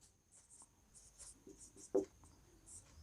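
A pen scratching out a maths solution by hand on paper, soft and close, in short strokes with one sharper tap.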